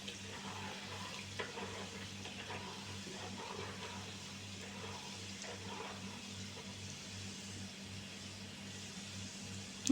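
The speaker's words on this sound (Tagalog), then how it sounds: "Luto na lang yan sa init ng mantika." Peanuts fry in hot cooking oil, with garlic browning alongside, making a faint, steady crackling sizzle over a low hum throughout.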